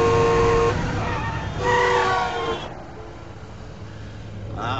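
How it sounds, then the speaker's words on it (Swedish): A car drives up along a rural road where a tractor is being driven, its engine noise loud and close at first, then fading lower, with a brief tonal horn-like toot near the end. "Det kommer en bil."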